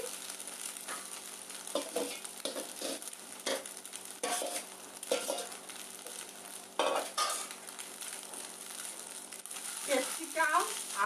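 Maggi noodles stir-fried in a pan with capsicum, potato and carrot: a steady, close sizzle with frequent spatula scrapes and clinks against the pan throughout.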